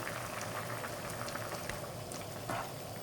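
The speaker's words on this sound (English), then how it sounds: "Meanwhile, I'm boiling my water." Water boils in a pot on a kitchen stove for noodles, a steady close bubbling and crackling hiss with small irregular pops throughout.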